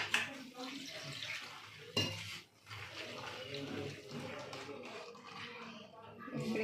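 Vegetables are rinsed in clean water in a home kitchen, with faint splashing and clinks of pots and utensils, quiet and close, while a voice speaks over part of it.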